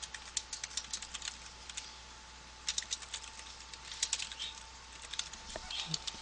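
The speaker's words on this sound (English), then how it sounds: "Once you have your blank screen, you can start typing." Quick, light clicks from a computer keyboard come in irregular bursts, faint and close, with steady background hiss and no talking.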